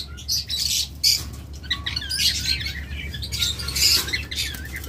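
Pairs of pet birds, including a blue pied pair, chirp and tweet in quick bursts in cages at a bird seller's, sharp near calls over a low steady background hum.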